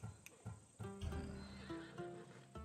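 A horse in the video game Assassin's Creed Odyssey whinnies once, close and clear, with a few soft hoof clops and low game ambience around it.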